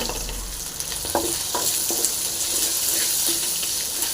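Peeled garlic and salt, with ginger and chilli, fry in a pan for a potato and horse gram curry, a steady sizzle with a few soft stirring taps close by.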